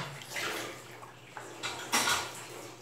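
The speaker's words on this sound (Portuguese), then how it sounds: "E vamos colocar 2 litros de óleo." Two liters of cooking oil poured for homemade salt soap, a soft liquid splash and trickle with a couple of stronger gushes near the end, close by and fairly quiet with no talking.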